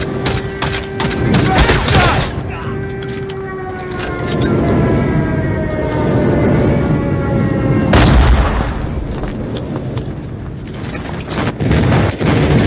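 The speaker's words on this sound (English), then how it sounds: "Friendly airstrike incoming." Airstrike explosions in the Call of Duty Mobile game during a raid match, heavy booms and crackling blasts that come in loud bursts, with gunfire and mechanical game sounds filling the gaps.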